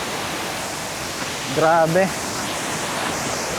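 Steady broadband rush of water from Three Falls in Sta Maria, Laguna, a continuous close roar throughout, with someone briefly speaking over it midway.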